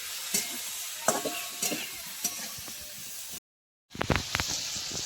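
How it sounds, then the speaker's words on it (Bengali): Cauliflower frying with spices in a pan for singara filling, sizzling and scraping with spatula knocks, a brief silent gap, then louder stirring resumes. "এবার আমি কপির সঙ্গে সব মশলা কষিয়ে নেবো ভালো করে।"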